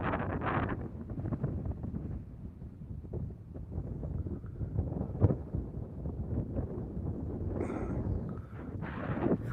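Steady wind buffeting a microphone on a fishing boat out on Lake Morena, a continuous low rumbling roar with gusty swells and a few brief knocks, no talk.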